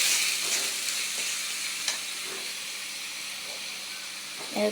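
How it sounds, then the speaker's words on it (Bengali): Water poured into a pan of frying bean, potato and fish curry brings up a loud, steady sizzle and steamy hiss that slowly settles, with a few stirring clinks and a final surge of crackling at the end. "এতে আমি একটু পানি দেব পানি দিয়ে ভালো করে কষিয়ে নেব"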